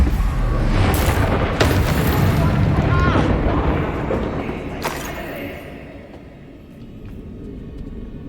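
Bombarda explosion spell in the Hogwarts Legacy game, a loud booming blast with a long rumbling decay, and a voice casting the spell over the top.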